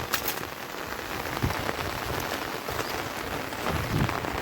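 Rain falls steadily on surfaces outdoors beside a place where fish are sold, a dense even hiss with scattered drop impacts. No voices are heard.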